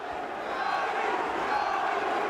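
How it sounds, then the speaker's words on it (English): The crowd at a 1998 professional boxing match between Arturo Gatti and Ivan Robinson roars in a steady, dense wash of cheering that fills the whole short stretch, with a commentator's voice faintly mixed in. "Crowd on his feet."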